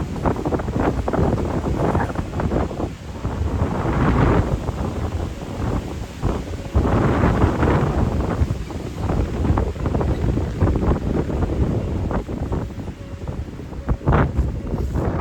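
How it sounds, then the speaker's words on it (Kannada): Strong wind buffets the microphone at a coastal viewpoint on the way to Kanyakumari, a loud continuous roar with gusts rising and falling throughout and no voices. "ಅಲ್ಲಿ ನಿಲ್ಲಿಕ್ಕೆ ಆಗುದಿಲ್ಲ, ಆ ರೀತಿ ಗಾಳಿ ಬರ್ತಿದೆ"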